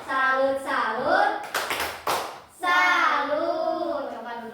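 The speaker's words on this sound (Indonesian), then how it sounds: "tepuk tangan, jawabannya udah baik. Tepuk tangan untuk Melin." Primary school children clapping together in a classroom, short bursts of applause breaking through a teacher's voice and children's chanting, close and lively.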